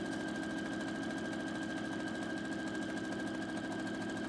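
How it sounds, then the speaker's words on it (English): A sewing machine stitches a vertical buttonhole on a Pendleton '49er shirt with a fast, even, continuous mechanical whir and rapid needle pulsing, steady and close throughout. "I press start again, and the machine finishes the buttonhole."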